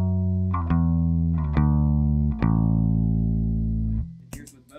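An electric bass plays a few sustained clean notes through a worship bass rig with no effects, each plucked and left to ring with a deep, rich tone before fading into silence.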